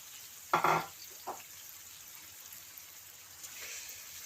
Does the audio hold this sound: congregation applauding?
no